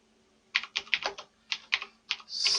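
Typing on a computer keyboard while working in Microsoft Word, heard as a close, fairly loud run of separate keystrokes in short irregular bursts, with no talking.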